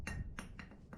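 Four light metallic hammer taps seating parts into place on a ZR2 Blazer, sharp ringing clinks spaced evenly, close but quiet, with no speech.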